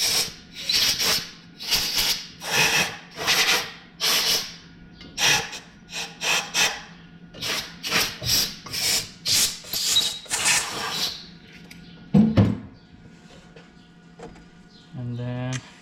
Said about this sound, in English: I'm just gonna blow out each one of those holes